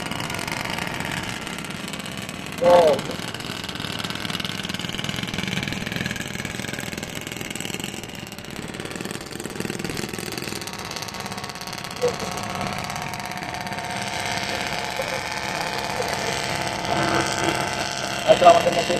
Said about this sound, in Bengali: লঞ্চের যে ইঞ্জিনের শব্দ আর সাউন্ড